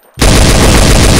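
Sustained P90 automatic gunfire in a first-person shooter deathmatch on aim_desert_arena, a loud, close, rapid continuous burst that starts abruptly after a brief quiet moment.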